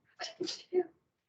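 A short, close sneeze burst with a quick catch of breath, sharp and brief in a quiet indoor setting.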